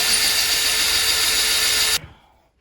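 A power drill bores through timber framing during a DIY bathroom renovation for a custom medicine cabinet. It whines loud and steady for two seconds and then stops abruptly, leaving a short fading rundown.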